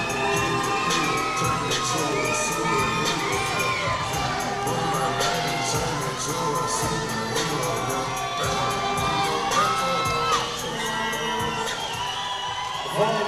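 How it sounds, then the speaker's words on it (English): A big crowd cheers and shouts steadily for a teen jiu-jitsu competitor at a kids and teens submission-grappling event, with whoops and children's voices throughout. An announcer's voice cuts through the roar. "Always having a big crowd behind them."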